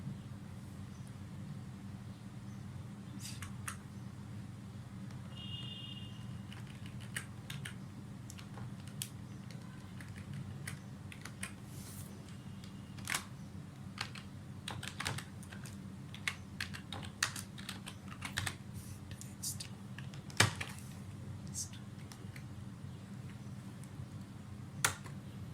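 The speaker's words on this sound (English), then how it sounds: "Now We can give the input text by using the keyboard." Someone types input text on a computer keyboard while programming in C#, with scattered irregular key clicks, some louder, over a low steady hum.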